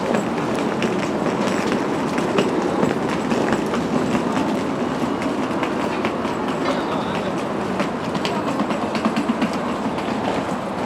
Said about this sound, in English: So that's what the new Sheffield Super Trams they got, the Class 399 EMU.